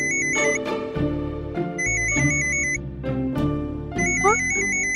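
A mobile phone ringtone signals an incoming call: a repeating electronic melody of beeping tones in bursts, loud and close, over a layer of background music.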